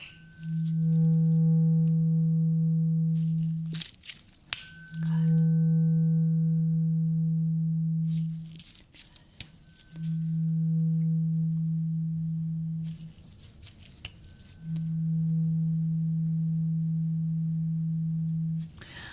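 A pure, steady low sine tone played during an ASMR medical hearing test, sounding in four long sustained bursts separated by brief gaps with faint clicks, quiet and close, with no voices.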